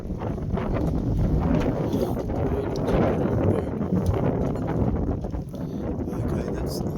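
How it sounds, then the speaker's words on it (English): Strong wind gusting by the water on a Tasmanian shore, buffeting the microphone with steady roaring bluster and rushing noise for several seconds, loud and close. "we got some wind down here, mate. We really did get some wind."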